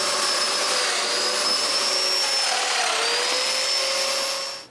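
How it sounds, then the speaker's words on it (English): A power drill bores mortises into a wooden dresser frame, one loud, steady high whine sustained throughout before winding down at the end, close with no voices. "And finally, I can drill the mortises."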